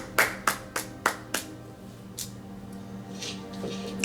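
One person claps by hand in about five sharp, evenly spaced claps, then a couple of softer scattered ones, close up in a quiet room.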